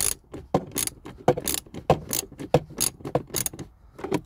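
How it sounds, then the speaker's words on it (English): A ratchet turns Torx screws on the interior blower fan of a Vauxhall Corsa D, making loud, close, rhythmic bursts of clicking that repeat steadily with each back-and-forth swing of the handle. "try to use that ratchet the whole way"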